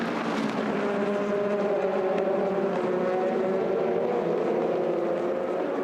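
Several 4.2-litre Gibson V8 engines of Le Mans prototype race cars roar together as the pack accelerates away from a race start, a continuous loud, layered engine drone with no speech.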